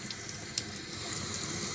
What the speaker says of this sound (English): I'm going to rinse my face off